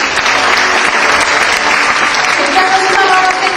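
Loud, sustained applause from an audience at a Korean university debate competition award ceremony, dense clapping filling the hall without a break.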